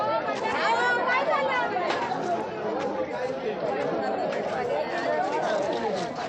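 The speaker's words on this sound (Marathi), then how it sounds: "आता सुरू झाली गर्दी" Crowd of pilgrims at the Jejuri temple steps, a dense continuous chatter of many overlapping nearby voices and footsteps, steady and busy throughout.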